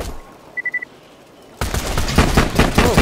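Gunfire from the VR game Borderlands 2 played on a Quest 2: a near-silent stretch with a short triple beep, then a sudden loud, dense burst of rapid automatic shots that continues to the end.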